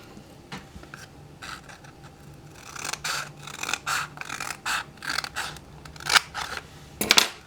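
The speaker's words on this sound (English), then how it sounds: "You're going to want to cut from the center seam all the way to this fold line" Scissors snip through a folded paper zine, starting with a few sparse cuts and then settling into a rhythm of crisp, close blade strokes and rustles, with no talking.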